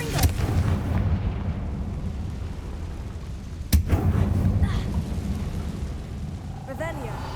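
Confringo fire spell cast in the Hogwarts Legacy video game, a heavy rumbling blast with a sharp crack midway, loud and sustained, with a voice partly over it.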